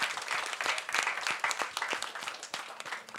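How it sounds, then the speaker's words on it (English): Audience clapping for panelists at an SDE Week panel event, dense and lively applause from a sizable crowd throughout, close and fairly loud with individual sharp claps popping out of the wash. "a big round of applause for our amazing panelists"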